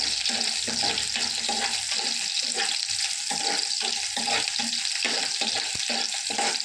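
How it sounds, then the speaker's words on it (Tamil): Sliced small shallots frying in sesame oil, a continuous crackling sizzle broken by repeated stirring scrapes, moderately close with a watery hiss underneath and no speech. "இப்போ ஒரு 20 சின்ன வெங்காயத்தை நீல வாக்கில் வெட்டி வச்சுருக்கோம். அதை போட்டோம். நல்லா எண்ணெயிலே வதங்கணும்."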